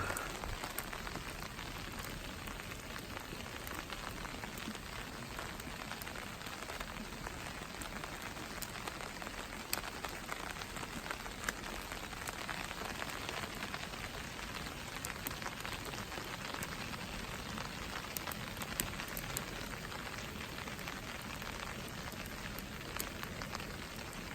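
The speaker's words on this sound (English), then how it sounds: "it looks like the chance of snow went out the window with rain" Steady rain patters on a surface throughout, an even hiss with scattered drops and no voices.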